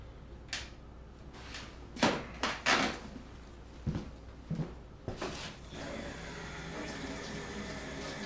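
A tap splashes into a sink during a workshop project, first as a few separate knocks and splashes, then a steady stream running for the last few seconds, close by.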